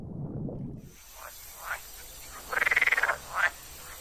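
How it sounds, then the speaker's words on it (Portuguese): Common frogs and green frogs croak in a shallow sunlit spring pond, a fast rattling trill and a few shorter croaks standing out clearly over a steady hiss of background noise. "Nos charcos, juntam-se rãs comuns e rãs verdes."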